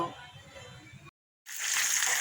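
Fish fries in a kadai with a soft, close sizzle, broken by a short gap of silence before the frying returns louder and brighter, with no voices.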